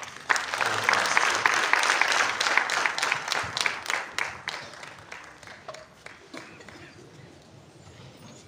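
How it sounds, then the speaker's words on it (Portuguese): An audience at an evening commemorative gathering breaks into applause, a full round of many hands that thins into scattered, slower claps as it dies away. "Uma salva de palmas"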